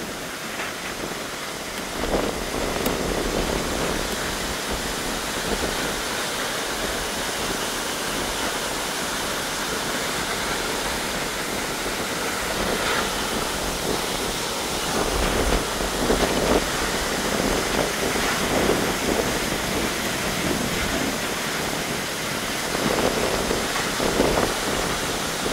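A Swiss waterfall pours into the lake beneath it with a steady, full roaring rush of water, constant and close, with no voices.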